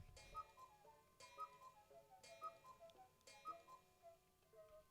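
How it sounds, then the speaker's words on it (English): A cuckoo clock in Animal Crossing ticks faintly in an even, regular rhythm, with four tonal chime-like pulses spaced about a second apart and no talking. "I love my cuckoo clock."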